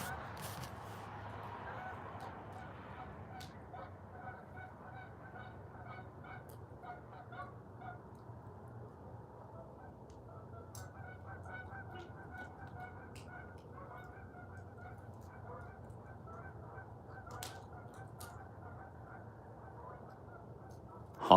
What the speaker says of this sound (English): Go geeses. Honkers, dude.